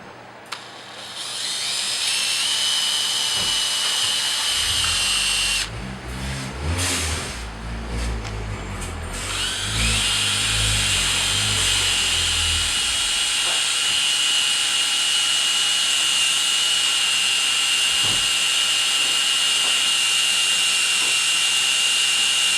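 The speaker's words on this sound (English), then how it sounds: "and we'll drill this out." A drill bores out a hole for a Porsche 997 fog light, a sustained high whine running almost the whole time, with a rougher, heavier patch of grinding partway through.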